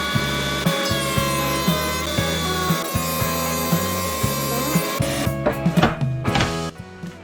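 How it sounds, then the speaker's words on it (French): Wooden boards fed through a thickness planer, a loud steady mechanical whine with rhythmic pulsing as the blades cut, ending in a few knocks and clatters as the wood exits. "je vais tout passer à la raboteuse pour régler ça"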